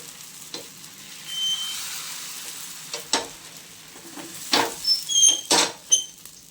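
Thin neer dosa batter spread on a hot pan, a soft hiss with short bursts of louder sizzling and scraping toward the end, near and without talk.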